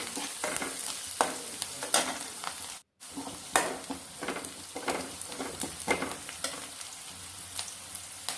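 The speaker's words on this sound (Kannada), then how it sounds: "ಹಸಿಮೆಣಸಿನ್ಕಾಯಿ ಕಟ್ ಮಾಡಿ ಮಧ್ಯಕ್ಕೆ ಬಿಟ್ಟು ಚೆನ್ನಾಗಿ ಹಾಕ್ಕೊಂಡ್ಬಿಡ್ಬೇಕು" Chopped green chillies fry in a hot pan, a steady close sizzle with stirring scrapes and a brief break partway through, no voices.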